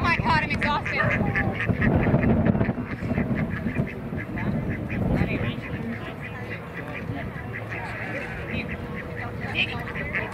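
Ducks being herded by dogs at the 1836 Chuckwagon Races, with scattered quacks and honks close by amid outdoor rumble, mixed with people talking throughout.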